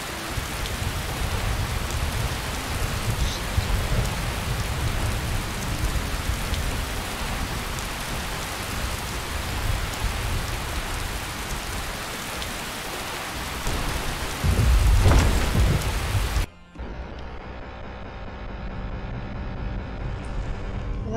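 In the game Daggerfall, rain falls outside a temple north of the city, a continuous close hiss of drops with a brief louder surge, then the scene cuts to a quieter, softer backdrop.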